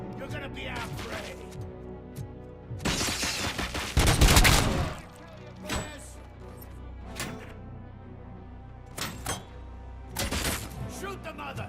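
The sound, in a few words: gunfire in the video game RoboCop: Rogue City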